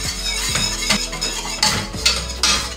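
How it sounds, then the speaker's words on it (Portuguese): Spoon scraping and clinking against a pot while stirring flour porridge over low heat on the stove, steady repeated strokes, close and clear with no talk. "Vou deitar 3 colheres de sopa de farinha e vou mexer sempre"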